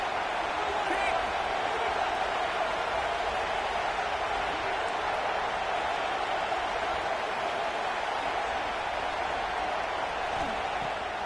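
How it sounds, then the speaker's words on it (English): Dense, steady roar of a big football stadium crowd as the defense faces third down in an Auburn versus Alabama game, a loud unbroken wash of cheering throughout. "Decibels rising as the crowd gets behind this defense on 3rd down."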